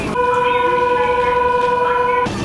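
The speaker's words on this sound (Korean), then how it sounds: "이번엔 한국에서 미리 구매한 티켓으로 라피트 열차를 이용했다" Nankai Rapi:t airport train at Kansai Airport, its steady electric drone with bright sustained tones running loud and even for about two seconds before cutting off.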